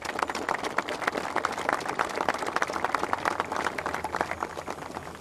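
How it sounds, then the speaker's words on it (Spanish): Sustained audience applause fills a hall at an Argentine farm and livestock event, given as a tribute: dense, steady clapping from many hands, loud and continuous throughout with no talk over it. "le voy a pedir un aplauso"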